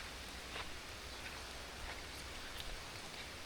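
Steady rain falls over a village, a dense even hiss of drops on surfaces with a few brighter splashes, continuous and fairly soft with no voices.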